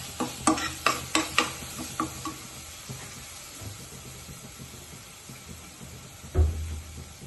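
Green chilli and spices sauté in a pan, opening with a run of sharp clanks as a spoon stirs and scrapes, followed by a soft continuous sizzle and a low thud near the end.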